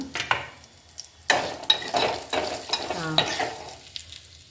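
Spices and asafoetida frying in hot oil for tomato rasam, a soft sizzle broken by stirring scrapes and light clinks of a spoon in the pan, close and fairly quiet with no talking.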